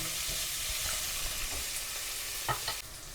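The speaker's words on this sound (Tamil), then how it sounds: "கருவேப்பிலை போட்டு வதக்கப்படுது" Curry leaves sautéing in hot oil for a fish curry give a steady, close hiss with scattered crackles and a few soft stirring scrapes. No one speaks.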